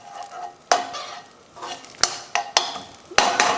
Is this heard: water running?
no